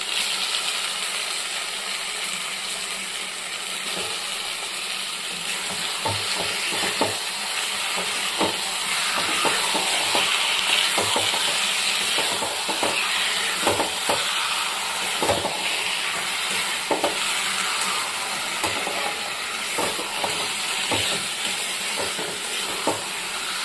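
Chicken pieces fry in masala in a pan, steady sizzling and steam hiss under repeated scraping and clinking of a spoon against metal as it is stirred, with no voices.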